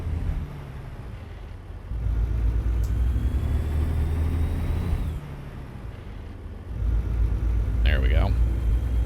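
A truck engine in American Truck Simulator rumbles low and steady, its pitch and loudness stepping up and down as gears shift, with a short whistle-like squeal near the end; someone talks over it.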